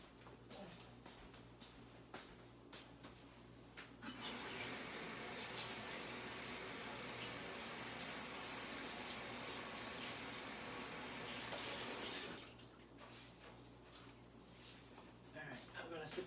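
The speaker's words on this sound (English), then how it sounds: "let me wash my hands" Tap water runs steadily into a kitchen sink during handwashing, a broad continuous hiss that starts abruptly and stops about eight seconds later, with quieter room sound on either side.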